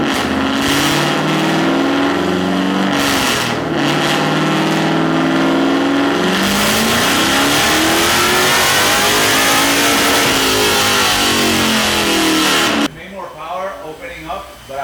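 A Mazda Miata with a swapped LS V8 engine winds up hard on a dyno, its loud roaring note climbing steadily through a long pull for about thirteen seconds before cutting off abruptly, leaving a lower burbling idle.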